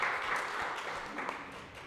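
Applause for new members at a church gathering: a dense, soft wash of many hands clapping together, steady and fairly distant for about two seconds.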